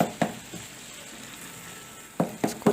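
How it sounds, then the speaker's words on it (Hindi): Brain fry (bheja) cooking in masala gives off a soft, low sizzle, broken by a few sharp scraping stirs near the start and end. "इसको तोड़ेंगे इस तरह से और मसाले में अच्छे तरीके से भूनेंगे"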